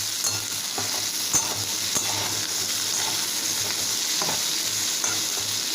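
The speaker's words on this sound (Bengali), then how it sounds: "আলু, পটল, সজনে ডাঁটা সমস্তটা ভালো করে ভেজে নেব।" Potato, pointed gourd and drumstick pieces fry in a pan for a prawn curry, giving a steady, close sizzle with occasional soft stirring scrapes and clinks.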